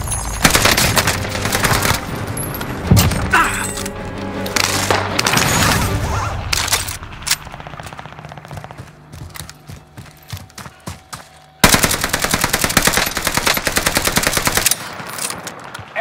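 Call of Duty Warzone firefight with rapid automatic gunfire in loud, close bursts, dense volleys early, a quieter stretch with scattered shots, then another sustained loud burst near the end.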